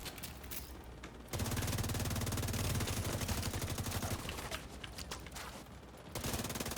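Turret gunfire in a video game rattles on in sustained automatic bursts, loud and continuous across most of the stretch, with brief quieter gaps.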